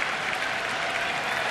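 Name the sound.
baseball stadium crowd anticipating a pitch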